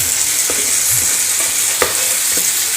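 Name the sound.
stirring onion and tomato masala frying in a pan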